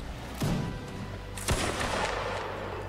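Musket volleys from line infantry in a Napoleonic-era line battle video game, with two sharp, loud gunfire bursts and a rolling crackle of shots trailing between and after them.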